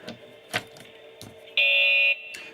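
A harsh electronic buzzer tone from the decoder of Escape Room The Game sounds for about half a second after a wrong code, heard over low background noise and a few soft clicks.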